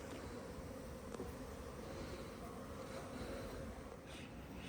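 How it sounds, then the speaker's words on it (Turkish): Steady, dense buzzing of many honey bees close by at a hive, a continuous droning hum with no pauses. "Bayağı bir kovanlarda erkek arı var."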